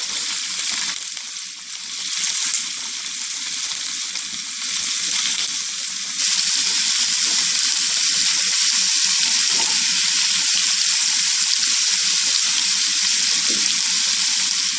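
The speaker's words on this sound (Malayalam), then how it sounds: "ഇതിലേക്ക് സവാള ഇട്ടിട്ട് നന്നായി ഇളക്കുക. ഒരുവിധം ബ്രൗൺ ആവുന്ന വരെ ഇളക്കുക." Sliced onions sizzle in hot oil for a Kerala-style chicken roast, giving a continuous hiss with occasional stirring; the frying grows noticeably louder and denser partway through and stays steady to the end.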